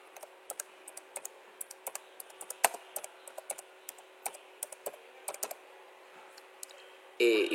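Typing on a computer keyboard to enter text in Photoshop: a quiet run of separate key clicks at an irregular pace over a steady low hum, ending with a brief louder burst.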